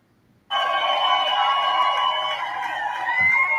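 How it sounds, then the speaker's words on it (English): A crowd cheers for Karen Read and her team as they walk in, a sudden sustained roar of voices and whoops that starts abruptly and holds loud and steady. "That's them cheering for Karen and her team as they walk in."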